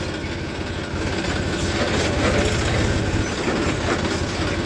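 A power-steering tractor drives and turns through a sugarcane field, tilling dry cane leaves, its engine a loud, close, continuous rumble with dense low chugging and no talk.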